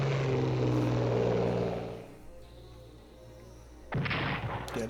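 A bomber strike in the Strategic Command naval wargame: a loud, dense roar of engines and explosions that fades after about two seconds to a low rumble, then a second sharp burst of impact noise near the end.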